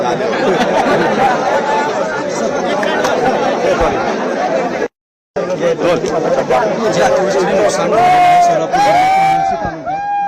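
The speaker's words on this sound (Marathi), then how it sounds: "काही काळ गावकऱ्यांचा गोंधळ देखील या ठिकाणी निघाला होता" Villagers crowd together in a loud, continuous commotion of overlapping voices and chatter at a drought inspection site, dense babble throughout with a brief cut in the middle and some louder shouts near the end.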